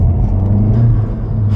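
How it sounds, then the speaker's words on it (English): A Volkswagen GTI MK7 with a DSG automatic and Cobb intake parts makes a loud, steady low induction rumble and drone from nearby, with no voices. "Definitely gives a lot more induction noise too"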